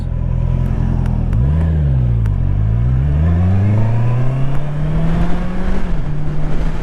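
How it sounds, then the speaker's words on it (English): A Jeep drives past at a pre-1960 classic vehicle reliability run, its engine note swooping up and down through gear changes before settling into a steady drone, close and loud with no talk. "Oh, a Jeep."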